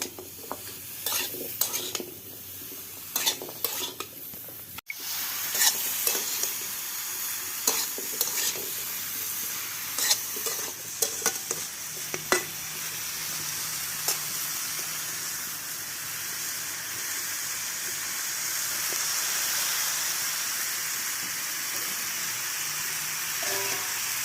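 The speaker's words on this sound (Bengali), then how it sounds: "ভালো করে বন্ধুরা এটা ভেজে নেব আমি।" Spiny gourd (kakrol) frying in a pan, a continuous close sizzle broken by clinks and scrapes of a utensil stirring, the frying growing fuller toward the end.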